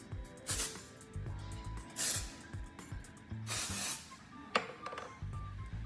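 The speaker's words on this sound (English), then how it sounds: "Spray it into the roots, into the roots" Texturizing hair spray hisses into the hair roots in a salon blow-dry, in several short, soft bursts separated by pauses.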